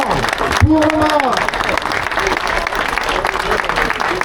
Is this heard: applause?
yes